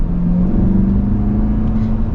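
A 2026 Chevrolet Corvette engine hums with a steady, close, loud low drone and a sustained tonal whine while driving, with no pauses.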